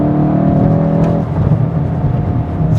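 A 2025 VW Golf GTI Mk8.5 with 265 horsepower accelerates hard on a winding road, its engine note climbing loud and close, then dropping briefly at a gear change before pulling on.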